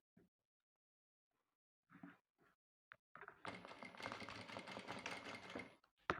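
A sewing machine stitches fringe onto the edge of a tablecloth: a few short taps first, then a steady, fast whirring run that stops abruptly near the end.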